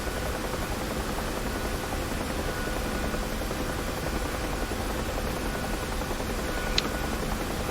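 A UH-1H Huey helicopter flying over Dubai in the DCS flight simulator gives a constant, close rotor and turbine drone, broad and unchanging throughout, with no talking.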